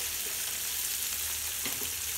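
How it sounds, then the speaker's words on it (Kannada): Fenugreek leaves fry in a pan with a steady, dense sizzle throughout, loud and close, with faint stirring scrapes and no voices. "ಆ ಮೆಂತ್ಯ ಸೊಪ್ಪೆಲ್ಲ ಸ್ವಲ್ಪ ಚೆನ್ನಾಗಿ ಎಲ್ಲ ಫ್ರೈ ಆಗಬೇಕು"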